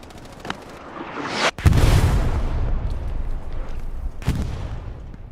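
Artillery shells in the World War II shooter Hell Let Loose: a loud boom lands midway, followed by a long rumbling roll and a second blast, with distant crackling shots before.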